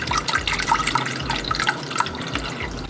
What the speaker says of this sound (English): let's start by putting some water in the double boiler pan